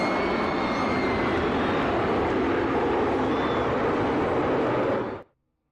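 An aircraft flyover at Daytona International Speedway before a nighttime Xfinity Series race: a sustained, loud engine roar holds steady, then cuts off abruptly near the end.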